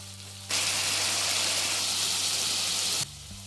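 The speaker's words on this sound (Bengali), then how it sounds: "তেলটা গরম হয়ে গেছে, এবার দিয়ে দিচ্ছি বড় চামচে 2 চামচ পেঁয়াজ বাটা।" Onion paste dropped into hot mustard oil sizzles loudly as a sudden hiss that starts abruptly, holds steady for about two and a half seconds, then cuts off, with a low kitchen hum underneath.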